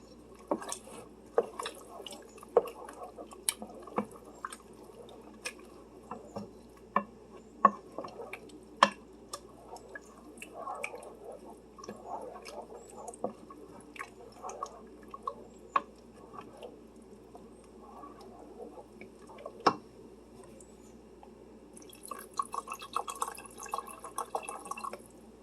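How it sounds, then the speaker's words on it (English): Beefy taco soup being stirred in a pot, giving soft wet squishing and dripping sounds with scattered light clicks of the spoon, fairly quiet and close with no talk. "Let's stir it up."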